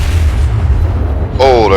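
Secondary guns on a World of Warships battleship booming, heavy low rumbling blasts rolling together, with a commentator's voice cutting in near the end.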